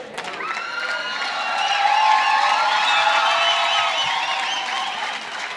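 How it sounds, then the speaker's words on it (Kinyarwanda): A church audience applauding and cheering for Nick Ngendahayo, loud sustained clapping mixed with whoops and shouts, swelling through the middle and staying strong to the end. "Amashyi cyane kuri Nick Ngendahayo."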